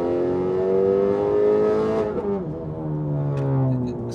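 A stage 2 Honda Civic Type R with over 400 hp revs loudly and up close, its engine note climbing steadily, dipping briefly, then building again in a strong, sustained drone.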